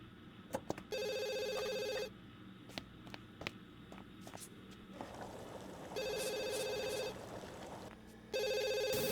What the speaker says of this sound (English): the phone will not stop ringing